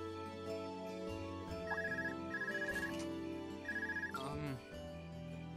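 A phone ringtone sounds in the role-playing video game Trails of Cold Steel: a repeated electronic trill in short bursts, heard over the game's steady music with speech nearby.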